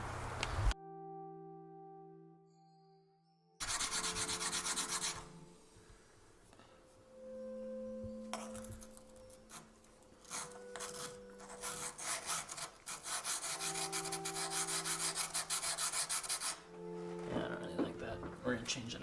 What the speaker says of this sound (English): we're going to get some polishing done